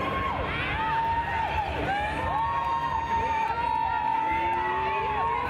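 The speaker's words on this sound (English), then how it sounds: "And the crowd goes wild." A roller derby crowd cheers and whoops loudly, a steady roar of voices with sharp shouts rising over it, while whistles and skate noise mix in throughout.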